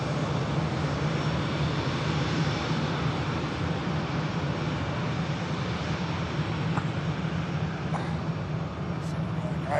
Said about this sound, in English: Touchdown, we got the Embraer Venom of VistaJet.